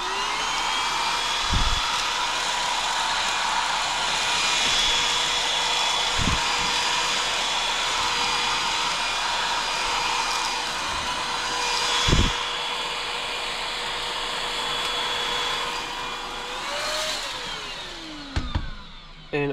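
A vacuum cleaner whines steadily and fairly loudly while cleaning the stencil and the inside of a 3040 manual SMD stencil printer, with a few brief knocks and a pitch shift near the end as the nozzle moves.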